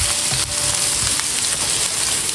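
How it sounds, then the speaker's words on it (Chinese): Green peppers stir-fried over high heat in a wok with eggplant and egg: loud, continuous sizzling and hiss with faint scraping, steady throughout and up close. "最后把青椒倒在锅里，继续开大火，快速翻炒均匀"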